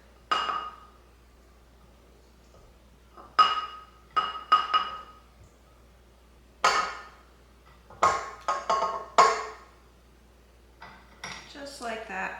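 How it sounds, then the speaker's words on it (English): Scraping butter from a glass jar in a farmhouse kitchen while baking, heard as separate bursts of clinking and scraping, a few in quick succession with short pauses between, close and fairly loud. "I'm gonna make sure we scrape all the butter out of this jar here"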